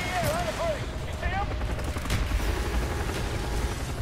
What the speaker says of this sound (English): What the fuck is shooting at me?